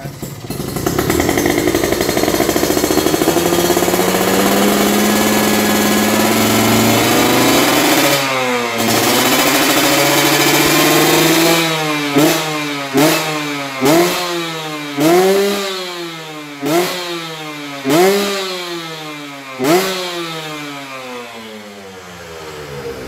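A modified Kawasaki Ninja RR two-stroke motorcycle engine idles loudly up close, then is blipped through a series of sharp, rhythmic throttle revs, each climbing and falling in pitch.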